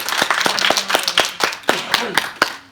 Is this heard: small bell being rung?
no